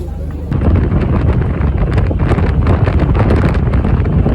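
Strong wind over the sea buffets the microphone on an Istanbul ferry crossing, a loud continuous roaring rumble with gusting bursts that swells just after the start.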